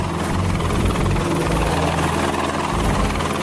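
A helicopter nearby, its rotor thumping in a dense, continuous chop over a steady engine roar, loud and unbroken, with no talk over it.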